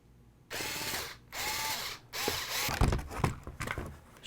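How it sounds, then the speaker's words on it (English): Two-millimetre screws being backed out of the ESC on an ARRMA 4x4 RC car with a powered driver, several short whirring bursts in a row, close and clear with no talking. "We have to remove a couple of screws here. It's a 2mm screw."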